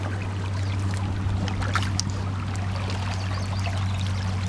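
Steady rushing river water near Hobble Creek, a continuous close pour and babble with a constant low hum underneath and no talking.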